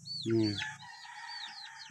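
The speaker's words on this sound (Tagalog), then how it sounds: "Marami ka ng mga native na mga manok mo Chris." Native chickens are heard close by: one short, loud cluck, followed by a long rooster crow that rings on with overlapping calls.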